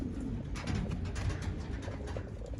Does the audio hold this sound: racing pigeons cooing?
yes